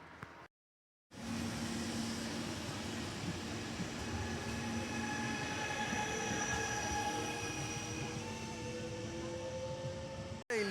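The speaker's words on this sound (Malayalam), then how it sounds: "ട്രെയിനിൽ വന്നിറങ്ങിയിട്ട് ട്രെയിനിൽ പോവാണ്." Steady rumble of a train riding toward Mount Vesuvius, with wheel and rail drone, faint squealing tones rising and falling, and a brief dropout near the start; no voices.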